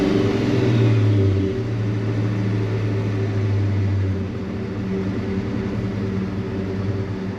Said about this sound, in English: You can hear the bearings for a little bit, or the rods shot right up.